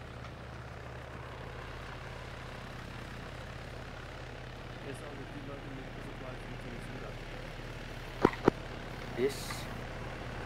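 A helicopter in the game Joint Operations gives a steady, moderately loud rotor and engine drone that runs throughout, with a few brief sharp clicks near the end and a voice speaking briefly.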